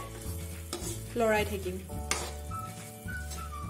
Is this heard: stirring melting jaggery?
yes